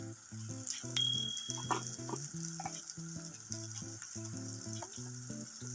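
Spices for a chicken dish sizzle steadily in a hot pan while being stirred, with a spoon tapping and scraping rhythmically against the pan; close and fairly quiet, no talking.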